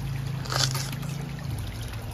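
Outdoors, a person urinates, producing a thin steady trickle of liquid that runs close by and continuous, with a faint background hum and no talking.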